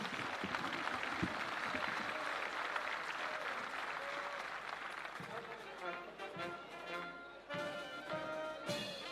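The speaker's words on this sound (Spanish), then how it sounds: "Fuerte el aplauso para ellos." Faint, distant applause for an instrumental band at a rodeo qualifying event in El Convento, a steady patter of clapping that thins out as voices talk over it.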